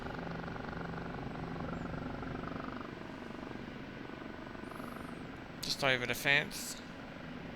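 An OH-58D Kiowa Warrior helicopter in the DCS flight simulator hums with a steady rotor and engine drone, while someone speaks briefly near the end over the background aircraft noise.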